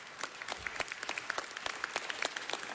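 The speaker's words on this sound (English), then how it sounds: "Let's give these young people a round of applause" A round of applause for a group of young people, scattered, fairly quiet claps from a modest crowd, individual hand strikes standing out in an uneven patter.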